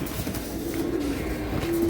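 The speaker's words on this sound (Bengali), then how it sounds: "খাকি কবুতর ভাই।" A khaki pigeon coos nearby, a low soft repeated call over a steady background murmur.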